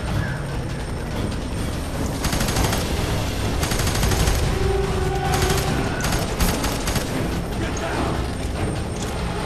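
Automatic gunfire bursts while shooting an enemy in the video game FEAR 3, dense rattling volleys repeating over a steady busy game backdrop, with a voice talking faintly underneath.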